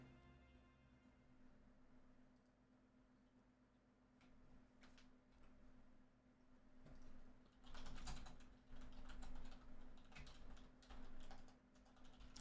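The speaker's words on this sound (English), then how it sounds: "Was typing to someone there." Quiet typing on a computer keyboard during a game session, sparse at first then turning into quick bursts of clicking keystrokes over a steady low hum, faint and close.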